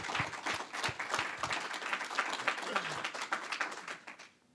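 An audience applauds Team USA athletes at a sports development gathering, steady dense clapping that holds for about four seconds and then quickly fades out.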